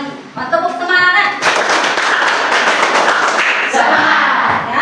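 Schoolchildren perform a rhythmic spirit clap in a classroom, loud, close patterned claps and thumps in quick sequence, with young voices chanting along.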